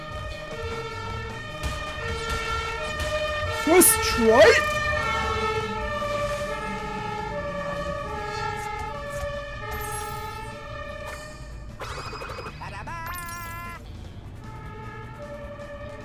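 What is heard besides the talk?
emergency vehicle siren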